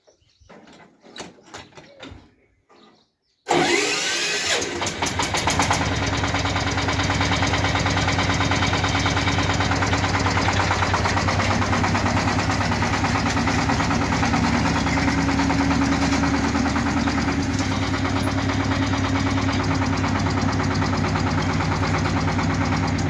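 Tractor engine starts up and runs steadily while hitched to a Polish-made seed drill loaded with spring barley, producing a loud, continuous rumble with mechanical knocking that lasts after a brief spell of handling noise.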